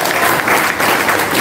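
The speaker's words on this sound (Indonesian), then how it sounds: "Tepuk tangan dulu." Audience applause at a political talk on democratic change in Indonesia, a dense and steady roar of many hands clapping that fills the whole moment at even loudness.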